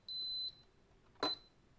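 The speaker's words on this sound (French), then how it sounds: "je crois qu'elle continue de biper tant que vous ne l'éteignez pas" A portable VEVOR heat press sounds two short electronic beeps, a clear tone about half a second long followed by a second beep a moment later, close and moderately loud in a quiet room.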